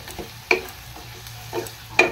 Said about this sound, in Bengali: তো এখন মশলাটাকে ভালো করে আবার কষিয়ে নেবো।